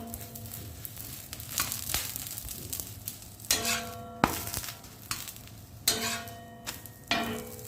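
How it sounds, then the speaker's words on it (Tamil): Wheat parotta frying in oil on a pan over medium flame, a steady soft sizzle broken by several louder clattering bursts as the flatbread is flipped and turned. "இப்படி பிரட்டி பிரட்டி போட்டு எடுக்க வேண்டியது தான்"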